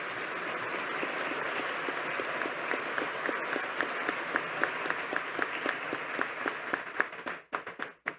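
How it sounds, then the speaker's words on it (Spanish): A crowd at a judiciary ceremony for Judge's Day applauds to welcome the court president, a steady, dense clapping that holds for about seven seconds and then breaks off into a few scattered final claps. "La recibimos con un fuerte voto de aplauso."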